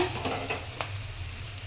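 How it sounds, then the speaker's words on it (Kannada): Chopped onions with coriander leaves sizzle in a pan, a steady frying hiss with a couple of light stirring scrapes over less than two seconds, no voices. "ಈರುಳ್ಳಿ ಕಲರ್ ಚೇಂಜ್ ಆಗೋವರೆಗೂ ಫ್ರೈ ಮಾಡೋಣ"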